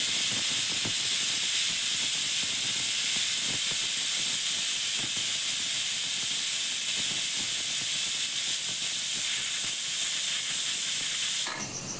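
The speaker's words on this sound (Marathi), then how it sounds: "आता आपण याच्यावर गॅसवर आपण आता कुकर ठेवलेला आहे." A pressure cooker set on a gas stove gives off a steady, loud hiss of escaping steam, continuous and unbroken for nearly the whole stretch before cutting off abruptly near the end.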